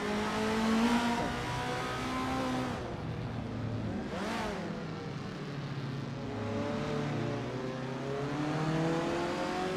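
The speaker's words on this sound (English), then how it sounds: "Liam is driving a 1970 Abarth 1000 TCR" A 1970 Abarth 1000 TCR race car on a track, its engine droning and revving continuously with rising and falling pitch through gear changes, close and loud, with a brief whooshing pass midway.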